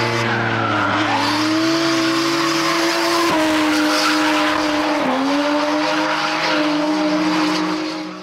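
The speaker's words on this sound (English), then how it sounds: "that's a really odd sounding SR20" A Nissan S15 with an SR20 engine at a drift event, its revving engine loud and continuous with rising and falling pitch, tire squeal layered over it throughout.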